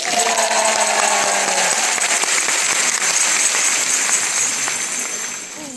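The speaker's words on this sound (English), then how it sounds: "Well, I'm going to stand here till you applaud at least." Audience clapping at a PartyLite candle demonstration, a dense burst of applause that holds steady for several seconds and then begins to fade.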